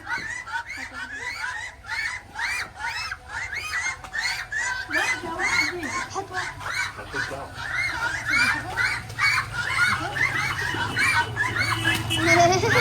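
A flock of ducks quacking in rapid overlapping bursts throughout, close and fairly loud, over a low background hum, with a voice talking and laughter mixed in.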